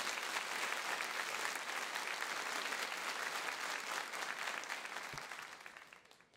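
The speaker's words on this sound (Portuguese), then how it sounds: "Vamos aplaudir esta palavra." Sustained congregational applause fills a Catholic worship night led by a priest, a dense, steady wash of many hands that holds evenly before tapering off near the end.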